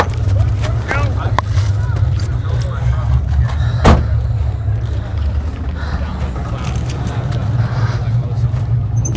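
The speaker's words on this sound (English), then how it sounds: "Man, that's a nice sounding Pontiac." A 1994 Pontiac Firehawk engine idling nearby with a steady low rumble throughout, a sharp click partway through, and someone talking over it.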